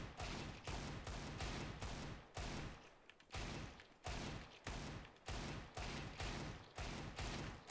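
Desert Eagle pistol firing in the game CS:GO, a series of about a dozen sharp shots spaced in a steady, deliberate rhythm, each with a short decay.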